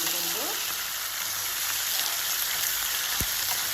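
Mutton sizzles hard in hot oil in a pan on an Indian home stove, a dense, even crackle that keeps going with no break and no speech over it.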